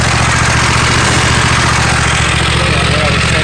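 Husqvarna Z254 zero-turn riding mower engine running loud and steady at close range, a continuous droning rumble with no pauses.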